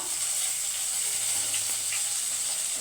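Garam masala and bay leaves sizzle in hot oil, a steady close hiss and crackle that runs unbroken and fairly loud, with no talking over it.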